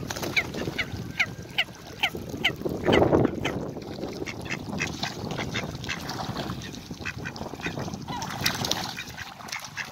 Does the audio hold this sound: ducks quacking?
yes